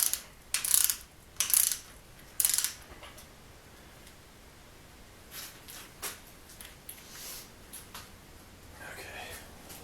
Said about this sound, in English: So snug it up and then torque it.